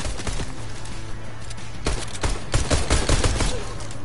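Hunting rifle fire in Fortnite, a run of sharp gunshot bursts with the densest volley in the second half, loud and close, with no talking over it.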